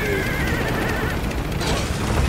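A horse neighs in a Metal Gear video game, a wavering whinny early on over a loud background of rumbling noise and crashing effects.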